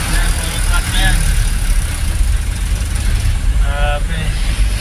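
Heavy traffic of trucks on a hot road in Valenzuela rumbles with low, steady engine noise close by, while voices talk over it.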